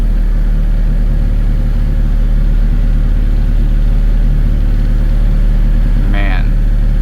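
A 1990 Honda CRX engine runs steadily at about 3,900 RPM, a continuous close mechanical drone with a brief higher chirp near the end.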